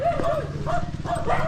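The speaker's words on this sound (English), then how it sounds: "get past the dogs." Dogs barking and yipping in the Philippines, a run of close, loud, high barks with whimpery tones, one dog overlapping another.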